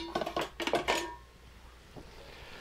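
Pasta and teriyaki mushrooms get stirred in a pan: a quick cluster of metallic scrapes and clanks from the utensil against the pan, then quieter, with one more faint knock near the end.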